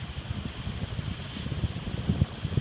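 A 48-inch heat fan runs steadily nearby, a constant broadband whoosh of air with low rumbling flutter from the blades throughout.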